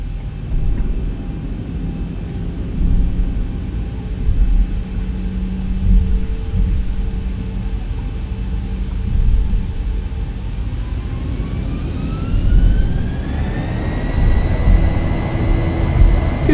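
Jet engines of a Boeing 737-800 ZIBO in X-Plane 11 on its takeoff roll from Atlanta's runway 9 left, a steady loud rumble with tonal whine that climbs in pitch as thrust builds toward the end, no voices.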